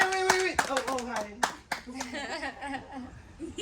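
Small group clapping at a cruise ship chef's table dinner after a card trick, with uneven bursts of claps under lively talking and laughter.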